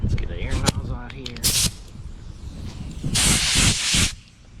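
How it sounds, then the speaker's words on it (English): Air nozzle blowing compressed air over bare metal during Corvair body work, heard as short hissing blasts, one brief and one longer and louder, with some talk around them. "Let's get an air nozzle out here."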